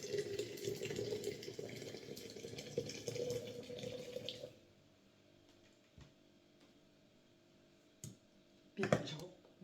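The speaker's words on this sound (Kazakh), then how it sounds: "Енді осыған ыссы су құямыз." Hot water pours steadily into a container holding pomegranate pieces for a few seconds, a close, rushing stream that then stops, leaving quiet with a few clicks and light clatters.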